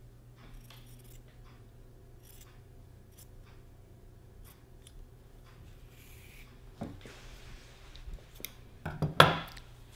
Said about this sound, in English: we're going to cut off the excess, and we're going to try to cut it as close to the seam line as possible